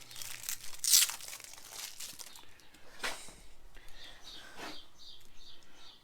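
Crinkling and tearing of plastic wrapping peeled off a Custom Dynamics LED taillight, close and brief, with a sharp rustle near the start, quieter crackles afterward and faint chirps behind.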